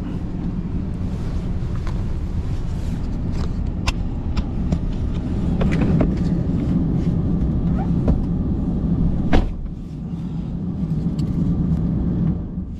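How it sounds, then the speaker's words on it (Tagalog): A borrowed car drives along after being started, its engine and road noise forming a loud, continuous rumble, with scattered small clicks and one sharper knock partway through. "Pinastart ko na yung sasakyan ko."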